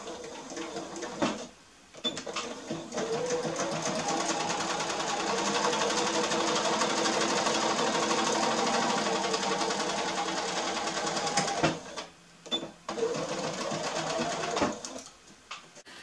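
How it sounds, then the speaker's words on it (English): A sewing machine stitching a quilted Christmas stocking runs steadily in a long, even burst of rapid stitching, with brief pauses and handling noises at the start and end. "take it over to my sewing machine and sew again a quarter of an inch away"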